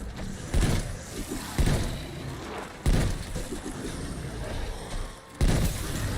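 Hand cannon fire in Black Ops Cold War Zombies: four heavy, booming shots spaced about a second or more apart, loud and close over a rumbling game background.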